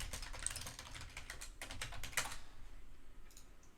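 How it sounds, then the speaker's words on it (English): Quick bursts of keystrokes clatter on a computer keyboard, a rapid run of close clicks followed by a few scattered taps, fairly quiet and with no talking. "My typing skills have failed me."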